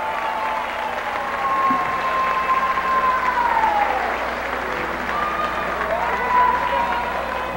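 A studio audience at a Brazilian viola music television program claps steadily for a sertanejo duo. The applause is a dense, even wash that is fairly loud throughout, and faint tones drift over it.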